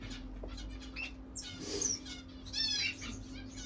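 Faint chirps and squeaks from a pigeon resting on a heater, with a soft rustle of wings partway through and a steady low hum underneath.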